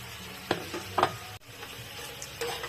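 Fried chicken fillet goes into a hot pan with carrots and is stirred, with soft scraping strokes and a few clinks over a low sizzle, close by and with no talking.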